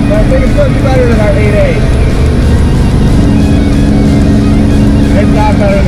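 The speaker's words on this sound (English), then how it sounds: "in first gear it launches hard and then it just rips right through the transmission" Truck with a 500 hp 12-valve Cummins diesel accelerating hard, a loud sustained engine roar close by with a voice talking over it.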